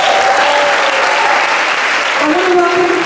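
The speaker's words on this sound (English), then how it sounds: "Give them a big round of applause." An audience at a gospel choir Christmas concert applauds, with steady sustained clapping and some cheering from a large crowd filling the whole stretch.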